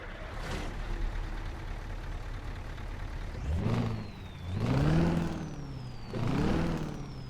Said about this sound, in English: I'm using the Mac V8 engine sound with this